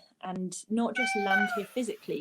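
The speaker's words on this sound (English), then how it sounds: "Excuse the cat." Domestic cat meowing indoors during a conversation, a short drawn-out mew rising above a nearby voice that keeps talking over it.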